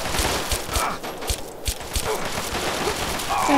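Gunfire in the video game Fallout 3 comes as a rapid string of sharp cracks over a dense, noisy game soundscape, loud and continuous throughout.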